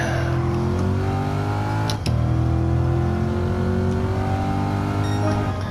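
Stock Chevrolet C8 Corvette Stingray engine revving hard and pulling through the gears, a loud, steady, close-up roar with rising pitch sweeps and a brief shift break near the two-second mark.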